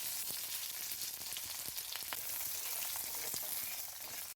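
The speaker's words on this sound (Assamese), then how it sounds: "মাই দিলে কেৰাহীত তেল জিৰা গুটি তেজপাত শুকান জলকীয়া ইলাইচি লং দালচিনি আৰু লগতে পিয়াজ" Cumin seeds, bay leaf, dried red chilli, cardamom, cloves, cinnamon and onion fry in hot oil in a kadai, giving a steady close crackling sizzle with occasional sharper pops and stirring, no voices.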